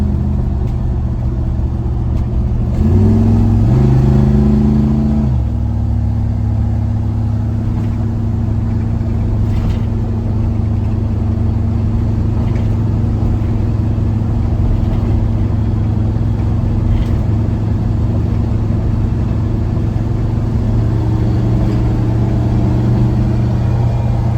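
A 1973 GMC K10 4x4 pickup with a 468 big-block engine idles with a steady deep rumble, and the revs rise briefly early on before settling back to a smooth, even idle.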